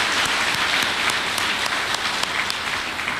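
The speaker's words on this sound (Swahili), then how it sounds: "Tumpigie makofi jamani." Applause from an audience for a speaker at a celebration marking 20 years of the NG-CDF, a dense, steady crowd clapping that stays loud and even throughout, with no talk over it.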